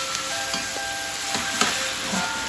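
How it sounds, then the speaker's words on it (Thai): Pork and noodles stir-frying with oyster sauce in a pan for pad see ew, a steady close sizzle with faint scraping stirs and light clinks from the spatula. "ค่ะเข้ากับมาผัดเข้ากันเลยค่ะทุกคน ผัดให้เข้ากันเลยนะคะ"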